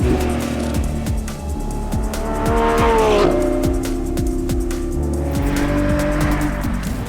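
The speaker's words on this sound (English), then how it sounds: "we are driving flat out, using the brakes very hard on a racetrack." A Lamborghini Revuelto's 1,001 bhp V12 hybrid engine roars continuously at close range, driven flat out on a racetrack, pitch rising and falling through gear changes, with tire squeal and no speech.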